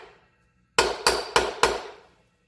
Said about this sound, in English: Remember those brass drifts I talked about before? Well, this is where they come in handy. Getting axles out